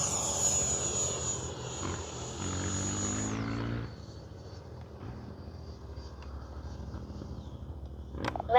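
An E-flite 70mm Viper electric ducted-fan RC jet flies overhead with a steady, loud high whine whose pitch sweeps and then drops as it passes, followed by a quieter, continuous drone.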